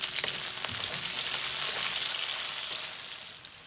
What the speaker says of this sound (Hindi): और इन्हें फ्राई होने देंगे जब तक ये अच्छे से पक न जाए।